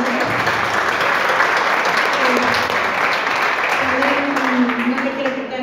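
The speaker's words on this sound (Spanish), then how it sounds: "Un aplauso, papá" A crowd claps steadily and loudly, the applause sustained throughout, with a voice briefly audible over it near the end.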